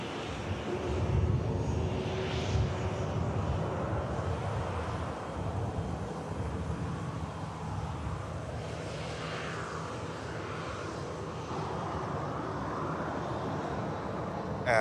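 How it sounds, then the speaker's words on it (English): Aer Lingus A321neo airliner taxiing at Manchester Airport, a steady low jet engine rumble and whine heard from a distance, with wind buffeting the microphone throughout. "Lingus 321 Neo on the taxi now for the return to Dublin."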